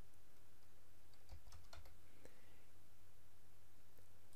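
Someone types quietly on a computer keyboard while entering a source in Word. The soft key clicks come in a short cluster over a steady low hum, with no talk.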